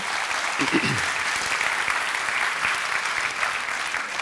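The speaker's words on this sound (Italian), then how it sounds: "Un applauso a Matera che è diventata patrimonio dell'UNESCO." An audience at an archaeology lecture about Matera applauds, with a brief voice at the start quickly covered by steady, dense clapping from many people.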